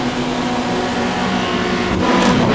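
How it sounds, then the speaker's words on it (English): Touring car engines hum and build together on the grid at a race start in the GTR2 video game, recreating the 1995 Australian Super Touring Championship at Winton. A steady, layered drone swells slightly at the end. "Revs come up, lights are on."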